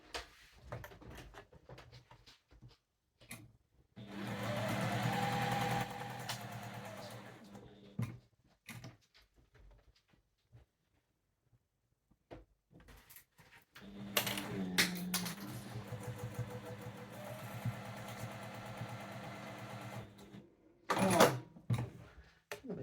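A sewing machine stitches a half-inch seam on a fabric tissue basket in two long running bursts, with a pause between and a few short clicks and handling noises around them.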